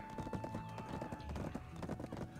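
Horse hooves clip-clop in quick uneven beats in the Black Desert video game, with a horse stuck against a rock; faint, with some game noise behind.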